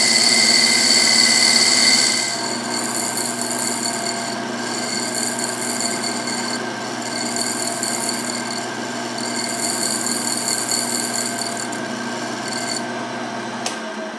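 A wooden segmented potpourri box spins on a lathe, giving a steady, loud, continuous rasping hum that dips slightly after the opening seconds and holds on with no talk.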